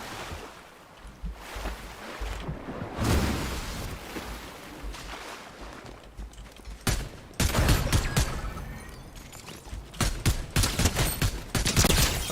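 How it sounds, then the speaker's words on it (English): Gunfire in the Fortnite video game crackles in bursts of rapid shots, with dense rattling volleys in the second half, loud and close against a rushing background. "They were shooting at someone else"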